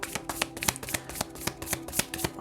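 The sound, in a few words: shuffling a deck of tarot cards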